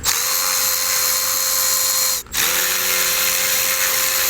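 A power tool whirs loud and steady as it backs out radiator screws on a Mercedes S63 AMG 5.5L W222 4MATIC, pausing briefly midway before spinning up again.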